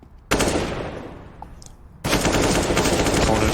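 Rapid automatic gunfire bursts loud and close in a Counter-Strike: Global Offensive esports match, a dense volley, a brief quieter lull, then another sustained barrage.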